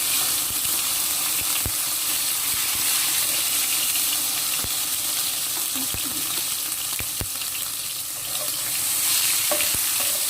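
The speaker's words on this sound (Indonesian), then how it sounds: "Tomatnya ini kita masak sampai layu." Tomatoes cooking down in a pan for sambal, an even sustained sizzle with scattered sharp taps and scrapes of a spatula, close and without talk.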